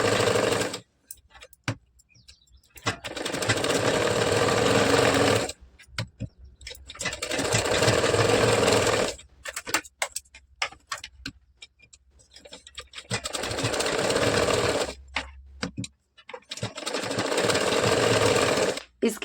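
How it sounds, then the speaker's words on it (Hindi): A sewing machine runs in several bursts while stitching along the lower side of a katori blouse, each run a loud, steady mechanical whir separated by short pauses, with occasional softer handling sounds between runs. "और आप इस तरह से इसे प्लेन करके नीचे साइड सिलाई चलाएंगे।"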